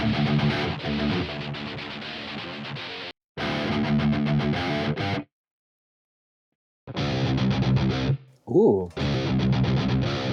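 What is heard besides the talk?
electric guitar metal tone through Neural DSP Quad Cortex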